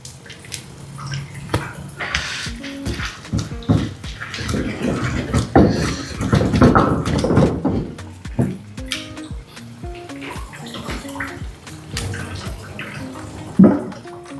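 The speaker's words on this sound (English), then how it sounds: "I'm going to add a little bit of water to my spinach." Water is poured from a tap or container over spinach in a pan while cooking, a continuous splashing trickle with clinks and handling noises running for several seconds, loudest midway.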